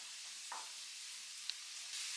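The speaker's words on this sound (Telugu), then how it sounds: "అప్పటి వరకు కొంచెం లైట్గా ఫ్రై చేసుకోండి." Vegetables and chopped onions frying lightly in a pan give a steady, soft sizzle throughout, with a few faint clinks of stirring and no voices.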